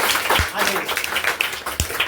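A crowd at a school awards celebration claps for a third-place student, a busy burst of applause with a couple of sharp thumps, while a voice talks over it.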